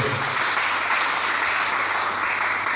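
A church congregation applauds continuously, a dense, loud wash of clapping that holds steady for a few seconds.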